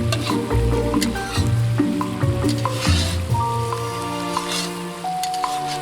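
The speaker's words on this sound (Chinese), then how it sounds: "炒鸡用宽油，算是半炸半炒，放一些蒜粒增香。" Chicken pieces and giblets stir-frying in a generous amount of hot oil with garlic cloves, half frying and half stir-frying: a loud, steady sizzle with repeated scraping and clanking of a spatula against the wok, and no voices.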